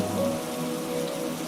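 Rain falling steadily, a constant patter of drops on surfaces with a faint tonal hum in the background, no voices.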